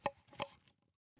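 Two crisp knife chops through aubergine on a cutting board, close and clean with a short softer tap after, then quiet.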